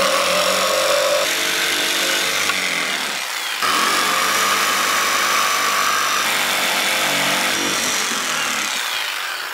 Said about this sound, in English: I'm using a jigsaw.